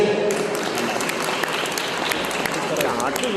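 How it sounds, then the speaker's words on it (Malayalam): An audience applauds at an Onam celebration, producing a dense, continuous clapping that fills the whole stretch while voices mix in. "ഒന്ന് കൈയടിച്ചേ"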